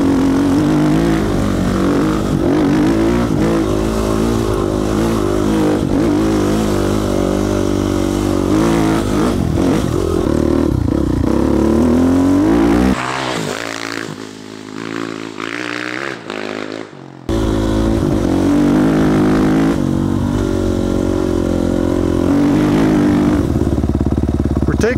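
Off-road dirt bike ridden on rough trail shortcuts, its engine droning and revving loudly and close throughout, briefly easing off before surging again.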